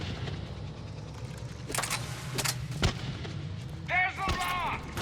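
Rockets firing and bursting in Mass Effect 3 on Rannoch during a Geth Dreadnought mission: several sharp booms with broadband blasts over a steady low rumble of combat, followed by a warbling synthetic tone near the end.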